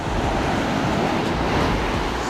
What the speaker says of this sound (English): I don't know if you can hear me well because of the waves.